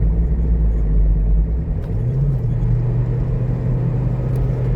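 A Ford Transit van with a faulty transmission missing third and fourth gears rumbles from inside the cab, a steady loud engine drone whose pitch shifts upward partway through as it changes gear.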